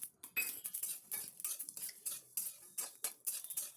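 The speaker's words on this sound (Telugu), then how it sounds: "ఇవన్నీ ఒక నిమిషం పాటు వేయించుకోవాలి." A spatula scrapes and taps repeatedly against a pan as grated coconut, sesame seeds and garam masala are dry-roasted, making quick, rhythmic, close metallic scratches with brief gaps and no speech.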